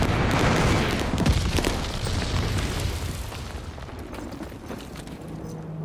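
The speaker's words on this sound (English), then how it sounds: "Enemy glide bomb incoming." An enemy glide bomb explodes in a video game, giving a loud, rumbling blast with scattered cracks that slowly trails off into a fading roar.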